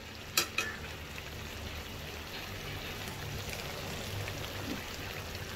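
Chettinad chicken pieces sizzle steadily in hot oil in a pan, a soft even crackle throughout, with a couple of sharp spits or utensil clicks near the start.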